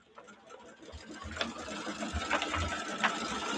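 A sewing machine stitching a Mylar wedding quilt, a steady mechanical whir with soft ticking stitches that grows louder, heard up close with no voices.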